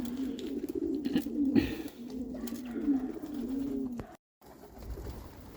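Pigeons, including a Budapest-type bird, coo in a steady, low, throaty murmur for several seconds, fairly close, with a brief silence near the end.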